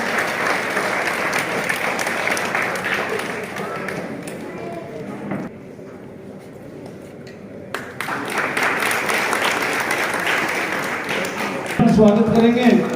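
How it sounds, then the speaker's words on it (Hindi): Sustained audience applause at an award and felicitation ceremony in a village settlement, loud steady clapping that dips briefly midway and then swells again, with a voice speaking near the end. "तालियां"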